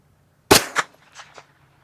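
A single sharp 9mm gunshot cracks loudly at an outdoor range, followed by a quick echo and fainter distant reports as the bullet strikes a target downrange.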